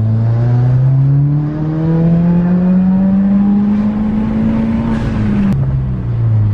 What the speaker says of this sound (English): did you rev match in first gear?